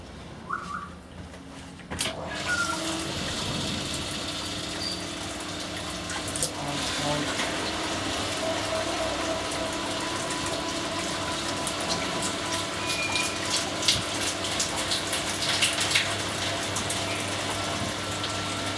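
A steady stream of brewing liquor trickles and gushes slowly into a vessel after mash-out, with a constant watery hiss, a low pump-like hum, and faint bird chirps in the background.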